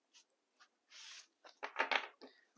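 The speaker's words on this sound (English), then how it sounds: "Let's do some initial shuffling." Quiet, crisp bursts of a Starseed Oracle card deck being shuffled and riffled, a few soft flicks first, then a denser flurry of snapping cards.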